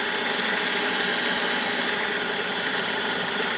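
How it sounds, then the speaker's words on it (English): Steady, close abrasive rubbing as wet sandpaper scrubs back and forth continuously against a ring, with no talking. "when you're sanding, make sure you're moving your piece of sandpaper around"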